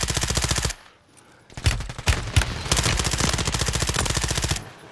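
Rapid automatic gunfire in the video game Warzone, a loud sustained burst, a brief pause, then scattered shots leading into a long continuous volley.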